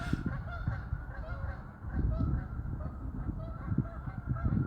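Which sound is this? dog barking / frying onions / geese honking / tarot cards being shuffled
geese honking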